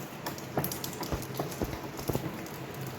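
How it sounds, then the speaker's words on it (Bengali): Steady rain falling outdoors on a wet evening, a soft continuous patter with scattered louder drips and taps close by, no talking. "সারাদিন বৃষ্টি হচ্ছে"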